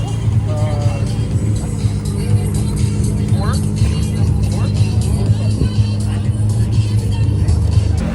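Ferrari 12Cilindri supercar rolling through a busy car meet in Toronto, a steady low engine hum beneath constant crowd chatter and other vehicles, with people talking throughout.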